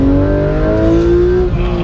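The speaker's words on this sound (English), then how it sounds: "man, listen to that engine" Porsche 991 GT engine revving hard on a counterclockwise race track at Yas Marina, a loud, close, rising howl that holds steady and climbs in pitch with no talking.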